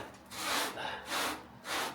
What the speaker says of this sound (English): I'm now going to continue to sand this